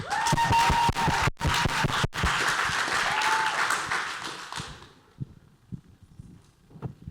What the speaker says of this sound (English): Clap it up for Dr. Eric Hughes.